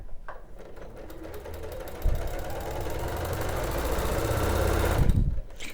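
A sewing machine stitches an appliqué flower cushion with a steady, fast mechanical whirr and rapid needle clatter, running close and loud for about five seconds before stopping.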